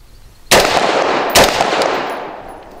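Two loud, sharp rifle shots from a Patriot Ordnance Factory Puritan upper chambered in .223/5.56 at an outdoor range, fired about a second apart, each followed by a long ringing decay.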